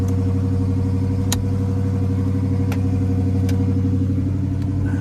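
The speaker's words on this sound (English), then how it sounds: "Let's see if we can get it to crank over" An SRT car engine, seen at a Copart salvage auction, runs at a steady idle close by with a constant low rumble and a few faint clicks, no voices.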